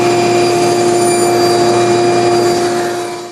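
A power saw whines steadily and loudly as it cuts wooden picture frame pieces to width for an English-style frame, a constant motor tone with no voices that tapers off at the very end.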